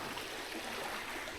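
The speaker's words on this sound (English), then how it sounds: "You can see how much the creek is flowing." A rain-swollen creek rushes steadily after a heavy overnight downpour, a dense, continuous broadband wash of flowing water heard close and alone.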